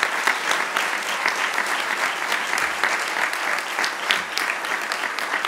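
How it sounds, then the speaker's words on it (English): Audience applauding at the unveiling of a NOAA weather and climate prediction center, a sustained, even round of many hands clapping throughout, fairly close and without talk. "I want you to give him a round of applause."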